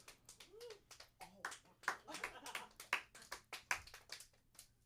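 Scattered audience applause at a comedy open mic night, loose uneven claps spread through the room with a few louder bursts, alongside murmuring voices.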